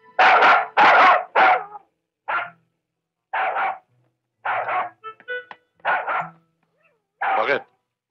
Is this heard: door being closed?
no